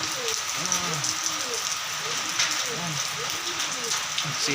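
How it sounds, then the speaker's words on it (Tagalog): Steady rain falling on an afternoon, a dense continuous hiss of drops on surfaces with soft chirping birds underneath throughout. "umulan na naman ah"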